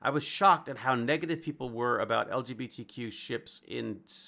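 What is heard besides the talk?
No everyday noises stand out.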